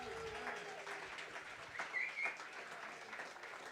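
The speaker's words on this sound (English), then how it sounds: "Let's give another round of applause for our wonderful presenters this evening." Audience applause for presenters at a Nerd Nite evening event, a steady dense wash of many hands clapping from a moderately distant crowd, continuous throughout with a couple of brief louder bursts.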